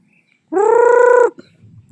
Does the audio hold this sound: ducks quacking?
yes